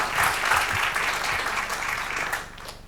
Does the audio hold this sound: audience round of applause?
yes